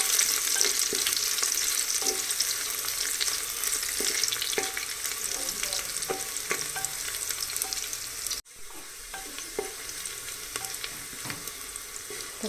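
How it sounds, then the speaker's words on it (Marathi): Garlic and curry leaves roasting in oil in a pan for a Maharashtrian masale bhat, a steady close sizzle and crackle with occasional stirring scrapes, briefly dipping near the end. "मग कढीपत्ता, यानंतर आपण याच्यामध्ये थोडंसं लसूण, ते छान असं भाजून घ्यायचं."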